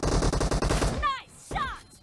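Kar98 bolt-action rifle fire during a team deathmatch round in a video game, a rapid string of loud cracks followed by a pause and a short whistling ring, with a faint voice underneath.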